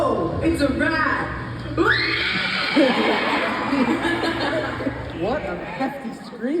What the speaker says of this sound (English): What a hefty scream out of you there.